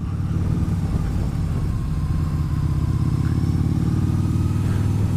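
A Harley-Davidson V-Rod motorcycle on the move, with a steady, loud low engine rumble and droning road noise running continuously with no pauses.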